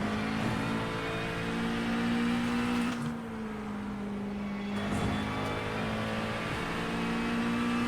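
A McLaren 720S GT3 race car at Le Mans in iRacing: a steady, humming engine drone whose pitch dips and rises slightly as cars run close together, with no talk.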